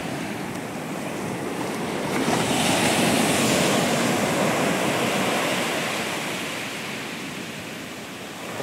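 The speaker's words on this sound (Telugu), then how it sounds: "లాస్ట్ మన కాళ్ళకు అలలు తగులుతాయి" Bay of Bengal surf breaks on the beach at Ongole, a steady roar of waves that swells into a louder, nearby crash midway before easing back, with no voices.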